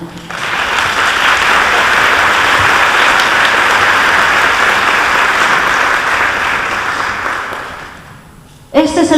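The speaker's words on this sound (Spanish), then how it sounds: "para el que le pedimos un aplauso" Sustained audience applause for filmmaker Manuel Curiel at an Asturian film festival ceremony, a loud, dense wash of clapping that holds steady for about eight seconds before tapering off into a brief pause.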